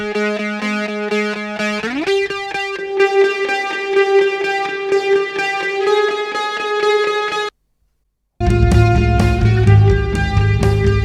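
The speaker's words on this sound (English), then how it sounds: "It kinda sounds good with a ton of reverb on it" A sustained electronic lead synth with long, washy reverb tails, playing steady tones, cutting out briefly before returning with a heavier low end.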